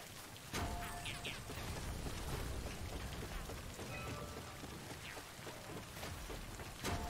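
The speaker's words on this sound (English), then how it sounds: "Get out of this time fall rain." Timefall rain in the Death Stranding video game patters as a steady, faint, even hiss of falling drops, with no talking throughout.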